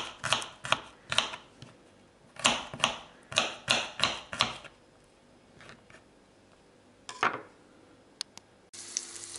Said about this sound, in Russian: сразу же порежем чесночок